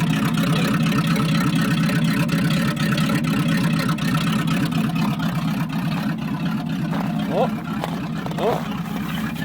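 A 1979 Chevy 350 V8 starting cold and settling into a steady, loud mid-pitched idle, with a voice talking over the engine near the end.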